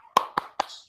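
Three sharp hand claps in a quick, slightly uneven rhythm during a classroom clapping routine, close and crisp in an otherwise quiet room.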